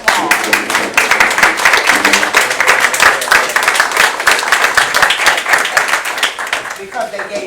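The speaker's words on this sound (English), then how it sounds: "stand up and give your parents a round of applause" Students clapping for their parents at a debate event, loud and close, with individual claps standing out inside the round of applause and a few voices in the crowd.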